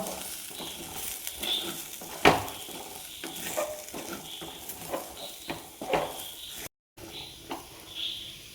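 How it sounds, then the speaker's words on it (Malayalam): Spice powders, including asafoetida, stirred in a pan over low flame for pickle, with a close, steady sizzle broken by scraping strokes of a spoon and a few sharp clinks, plus a brief silent gap near the end. "നന്നായിട്ട് ഇളക്കി കൊടുക്കാം."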